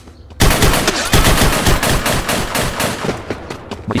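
Rapid bursts of gunfire from the video game Red Spot: a dense, loud stream of popping shots that starts abruptly and keeps going for several seconds, with no talk over it.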